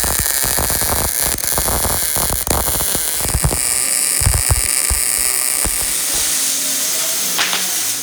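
MIG welding on a 1000HP Impala SS, a loud, steady electric crackle and buzz with irregular popping, close by, fading toward a quieter hiss near the end with no talking.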